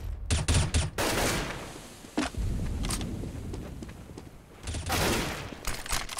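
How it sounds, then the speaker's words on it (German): Rapid bursts of auto sniper rifle fire crack in a Counter-Strike esports match on a desert map, loud and close, in dense clusters separated by short gaps with no talk. "Autosniper tackert ordentlich zu."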